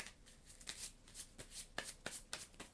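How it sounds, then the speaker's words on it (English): Playing cards for the Imperium Classics board game are shuffled by hand at a table. A quiet, close series of about eight crisp riffling bursts comes in an irregular rhythm, with no talking. "Shuffle."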